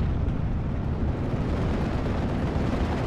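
A 17 pounder anti-tank gun firing on a Marder III in Steel Division: Normandy 44, a continuous heavy rumbling roar of cannon and explosion noise, loud and dense throughout with no distinct separate shots.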